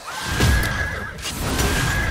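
A horse whinny from the video game Brawlhalla rings out in two drawn-out calls, the second fainter, mixed with game effects and background noise.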